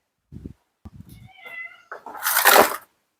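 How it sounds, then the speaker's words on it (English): A house cat meows clearly up close, a few short mews building into a longer, louder meow at the end, with light background sounds beforehand. "Your cats take over your video."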